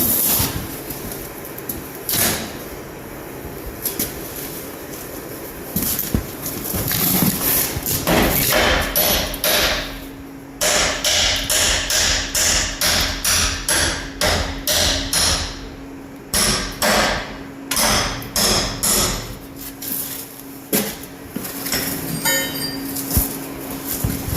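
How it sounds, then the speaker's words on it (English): Repeated hammer blows on a metal part of a 1971 Chevy pickup, at first sparse, then a rapid series of sharp ringing knocks, with a low mechanical hum in the background. "Take your hammer and see if you can knock it off the top."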